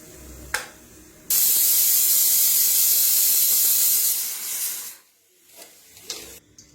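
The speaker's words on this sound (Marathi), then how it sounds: "आता इथं मिक्सरला लावून घेतलं पहा." Mixer grinder grinding green chillies with a little turmeric and no water, a loud steady whirring roar for about four seconds before cutting off, with brief clicks and knocks before and after.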